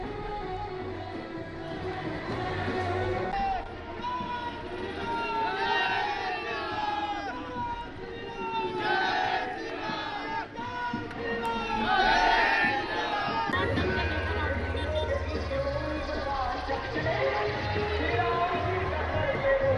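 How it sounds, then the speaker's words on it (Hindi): Large crowd of devotees gathered at a Hanuman Janmotsav procession, a dense continuous roar of many voices with shouts and chanting rising and falling, loud and close throughout. "इस दौरान हजारों की तादाद में भक्तों की भीड़ उमड़ पड़ी है।"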